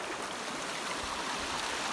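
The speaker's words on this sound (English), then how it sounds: "This is what apparently counts as a big water crossing." A stream at a hiking trail water crossing in Henry Coe rushes in a steady, broadband wash of flowing water, close and continuous, with no voices.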